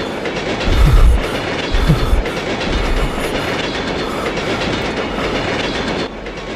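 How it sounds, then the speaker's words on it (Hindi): A passenger train runs along the rails, heard as a loud, continuous rumble with rhythmic clickety-clack wheel beats, fairly close and unbroken by any voices. "उसने देखा कि वो ट्रेन के अंदर ही था"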